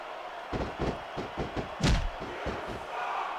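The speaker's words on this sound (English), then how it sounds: "I think these superstars are getting some feedback from the crowd" Wrestling crowd noise in the video game SmackDown vs Raw 2006, a steady background roar broken by a series of rhythmic thuds and one louder slam near the middle, with no commentary over it.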